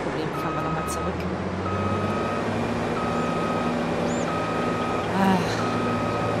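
A truck backing up in Farming Simulator 22 sounds steady, evenly spaced reversing beeps over a low engine hum, with someone talking faintly underneath.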